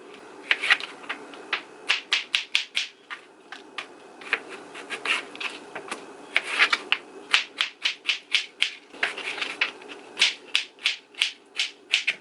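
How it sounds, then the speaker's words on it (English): A knife chops a cucumber into bite-sized chunks on a board, giving rapid, even taps in quick bursts with short pauses between them, close and clear with no talk. "I like to cut my cucumber in bite-sized chunks,"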